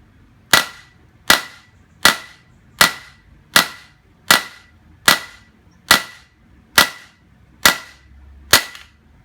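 Repeated sharp strikes of a bullet puller knocking a 9mm bullet free: ten crisp, loud percussive hits at an even pace, about one every 0.8 seconds, each with a quick ringing decay, with no talk.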